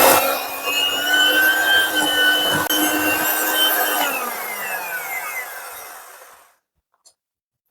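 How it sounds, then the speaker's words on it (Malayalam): An electric mixer runs loud at high speed, beating buttercream frosting with a steady whirring drone and a shifting pitch, then spins down and stops, leaving silence; no talking. "നല്ല ഹൈ സ്പീഡിലിട്ട് ബീറ്റ് ചെയ്യുക"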